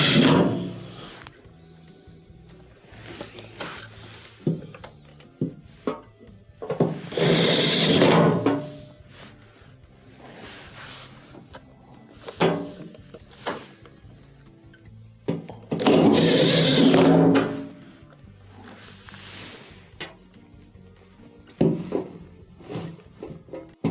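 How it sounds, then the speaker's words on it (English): Screws being driven back into the underside of a washing machine during a door latch repair, heard as bursts of power driver whirring and scraping between quieter handling clatter, fairly close. "let's go ahead and reinstall the underside screws"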